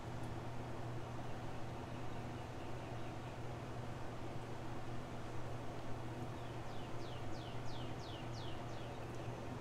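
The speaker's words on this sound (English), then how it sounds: "Y'all hear the birds?" Faint outdoor birdsong in spring, with a few brief high chirps heard over a steady broadband hiss of background noise near a backyard grill.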